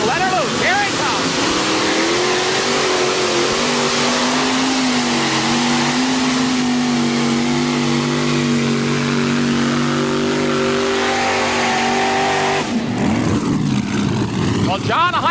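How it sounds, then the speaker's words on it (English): A modified pulling tractor at a 1989 NTPA 9200 class event in Atco, New Jersey, roars loudly and continuously down the track with rising and wavering engine pitch, then a sharp change near the end as it cuts off or slides. "the LEVI Garrett tractor will fire up on the left-hand side of the track"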